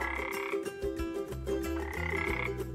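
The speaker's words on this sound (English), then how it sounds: "can you hear the croaking sound of a frog?" A frog croaks in loud, rhythmic repeated calls, close and continuous, set against a musical backing in a children's jungle-themed yoga session.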